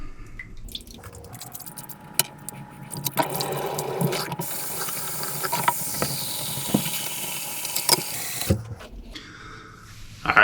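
A tap runs water steadily while shaving lather is rinsed off, a continuous close rushing splash lasting about seven seconds before it cuts off, with no talking.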